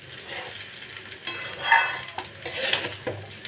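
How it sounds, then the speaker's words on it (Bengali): Cooked rice is stir-fried in a pan to make fried rice. A utensil scrapes and clinks against the pan in short, irregular strokes, fairly quiet and close, with no talking. "রাইসটাকে ভালো করে ফ্রাই করতে হবে"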